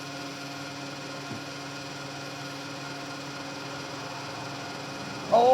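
A petrol pump dispenses one litre of prepaid fuel, a steady mechanical hum with a tonal whine running evenly throughout, one faint click partway, and a brief louder rise at the very end.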